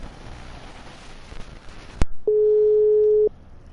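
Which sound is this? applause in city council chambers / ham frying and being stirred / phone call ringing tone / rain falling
phone call ringing tone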